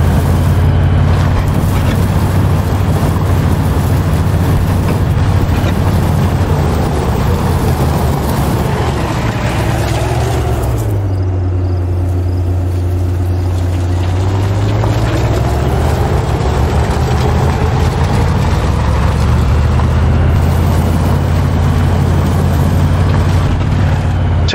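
A car in the video game DayZ drives with a loud, continuous engine drone. The pitch sags and rumbles lower partway through before climbing again, with no talk over it.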